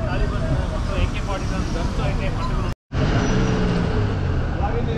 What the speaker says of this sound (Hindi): बिल्कुल ट्रैफिक जाम हो गया है काबुल की गलियों में